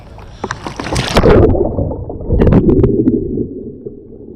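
A kayaker performs a hand roll at a paddling demo, with sharp splashes and sloshing water in two bursts, loud and close, then dying away into quiet gurgling.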